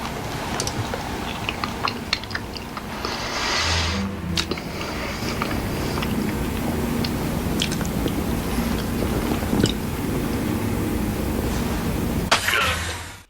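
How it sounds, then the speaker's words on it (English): Wet, squishy chewing and biting of pie in a 1988 ski-themed slasher film scene, close and continuous for most of the clip with a few sharper clicks and smacks. "this pie scene, it gets extra points for grossing me out with pie chewing ASMR."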